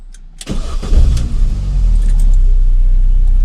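A Mini Cooper R50/R53 1.6 engine cranks briefly and fires, then settles into a steady, loud idle that carries on to the end, with no voices present.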